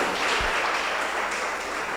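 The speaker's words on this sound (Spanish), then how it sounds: "Démosle un fuerte aplauso al Señor, hermano." A church congregation claps together during a Spanish-language service, a dense, steady wash of applause with no voices over it.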